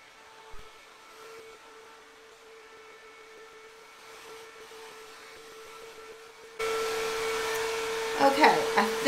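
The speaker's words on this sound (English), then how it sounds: "Grab a chunk of hair and just kind of set it in the hair dryer." Hair dryer drying curly grey hair, a steady whine under a low hum that jumps to a louder, fuller rush of air near the end.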